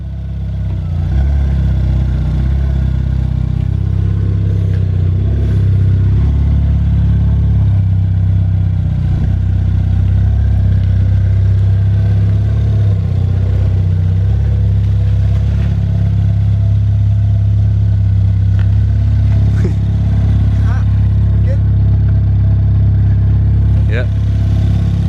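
A written-off Ford Fiesta ST idles steadily after the key is turned, a continuous close engine drone with some light clatter running throughout, while people talk quietly over it.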